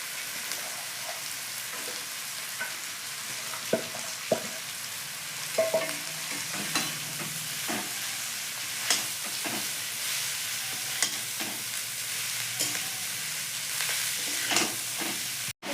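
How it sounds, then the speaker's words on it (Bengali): Cabbage is stirred into a sizzling tomato and chili-powder masala for a chana dal tarka, with a steady frying hiss under intermittent scraping and knocking of a spoon against the pan. "এখন আমি এর ভিতরে দিয়ে দেবো পাতাকপি"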